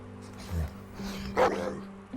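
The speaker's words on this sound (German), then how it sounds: "Ja, nicht der schönste Hund, aber ein liebes Tier, eindeutig." A dog in The Walking Dead video game gives a few short whimpers and a yip, moderately loud amid game sounds.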